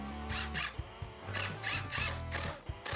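A power drill drives screws into pocket holes while a wooden porch bench is assembled, with close whirring bursts that rise and stop in quick succession as each screw seats.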